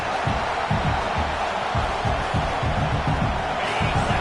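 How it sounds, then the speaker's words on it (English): A crowd in an American football stadium keeps up a loud, continuous roar, with rhythmic pulses of chanting or stomping underneath a wash of broadband noise. "This crowd is trying to inspire this defense to make a big red zone stop."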